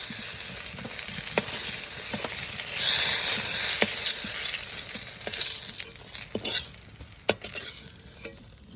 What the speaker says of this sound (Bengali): এরপরে বেগুনটাকে নেড়ে চেড়ে সুন্দর করে ভেজে নেব।